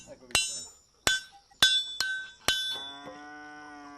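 Five sharp metallic strikes of a hammer forging a new horseshoe in rural Romania ring out at uneven intervals, each leaving a bright clanging resonance, the last one ringing on longest.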